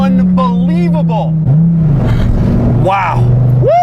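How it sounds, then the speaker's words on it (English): Deep, rumbling V10 engine of a Dodge Viper sports car pulls hard under acceleration, a steady low drone beneath excited shouts and talk from inside the car. "just a rumbly American sports car with a big old V10 under their long hoods"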